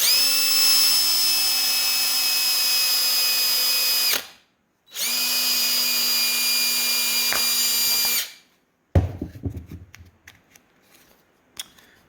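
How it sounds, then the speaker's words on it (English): A power drill runs in two steady, high-pitched bursts of about four seconds each while drilling a hole in a plastic container cap, then goes quiet before faint clattering and handling noises. "So I'm going to have to drill a hole in the cap of the container"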